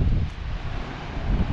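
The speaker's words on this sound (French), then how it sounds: "c'est très venteux" Strong wind buffets a microphone on a Danish beach, a steady low roar that swells at the start and end and never lets up, with no voices.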